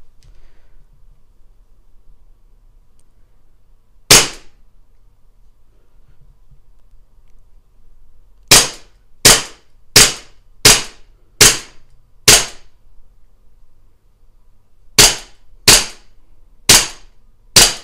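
Shots from a Colt 1911 100th anniversary CO2 air pistol fired indoors, one sharp crack followed by quick rapid strings of snappy pops, clear and close against a quiet room.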